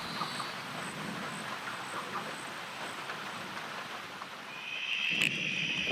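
Steady, dense rain hiss from the first storm of the wet season at a tropical lagoon, continuous and fairly loud throughout, with a thin high whistling tone joining near the end.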